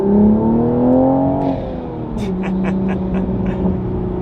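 A Toyota Supra's engine revs up with rising pitch, then shifts and keeps pulling hard on a highway, loud and close from inside the vehicle.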